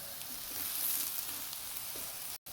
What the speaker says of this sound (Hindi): ये देखिए इस तरीके से मैंने ये बैंगन फ्राई कर लिए हैं।